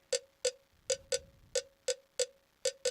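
A programmed cowbell sample from music production software, struck in a steady pattern of about ten bright, sharp metallic hits with short ringing decay, close and alone.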